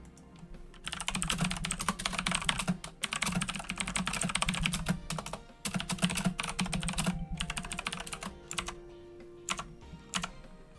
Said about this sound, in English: I have been told my keyboard is quite loud.